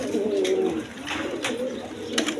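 Domestic pigeons coo in low, repeated rolling calls, close and steady, with a few brief sharper chirps; the pair has just been let go from hand.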